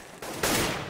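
Gunfire in a Counter-Strike match at DreamHack Winter 2014, two sharp bursts in quick succession, the second louder and brighter, ringing out within a fraction of a second.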